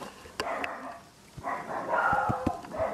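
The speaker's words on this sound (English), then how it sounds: "now the dogs are starting up" Dogs bark in short, sharp bursts at a rural hard-rock gold prospecting site, a few barks spaced across a few seconds at moderate distance over steady outdoor background noise.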